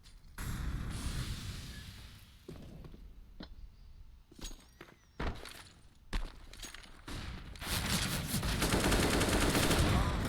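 Rifle fire from an AK in a Counter-Strike: Global Offensive esports match, with sharp shots and short bursts scattered across the clip and a denser, louder stretch of fire near the end.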